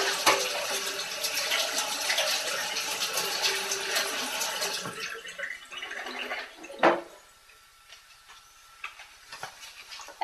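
Soaked almonds are rinsed under water while making a raw vegan chocolate mousse: steady running and splashing water for about five seconds, then quieter drips and a single sharp clink.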